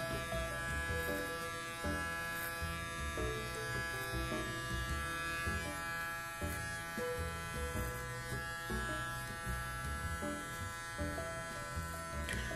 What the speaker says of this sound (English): twist your wrist as you are pulling the trimmer off the head